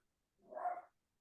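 A single short bark from a pet dog at home, reacting to someone at the door, comes faint and muffled in a quiet room.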